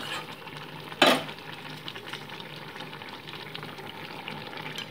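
Fried small fish being stirred into a simmering vegetable curry, a sharp utensil clack against the pan early on, then soft bubbling and light scraping beneath a low sizzle, no one speaking.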